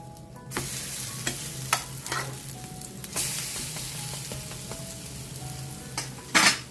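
Marakarikka dosa frying on a hot pan, a steady close sizzle with scattered stirring and scraping knocks and a louder clatter near the end as it is flipped.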